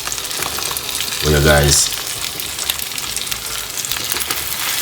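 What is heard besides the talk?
salmon pieces pan-frying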